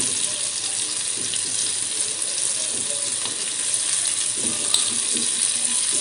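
Prawns sizzling in a pan over a low gas flame, a steady close frying hiss that carries on throughout with no talk.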